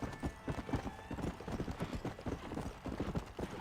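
Horse hooves clip-clop in a steady, close rhythm in a western video game, with a brief whinny and faint talk in the background.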